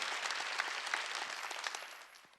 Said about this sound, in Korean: 그 일본의 모든 선교사들 수고한 분들에게 박수를 좀 보냅시다.